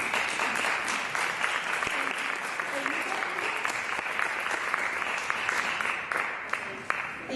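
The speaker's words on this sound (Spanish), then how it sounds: "Un fuerte aplauso para ella." Audience applause for a weather-show presenter on a Spanish stage program, steady and dense for the full stretch, filling the room at close range with no voices standing out.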